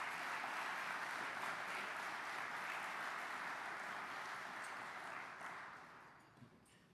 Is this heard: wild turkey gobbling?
no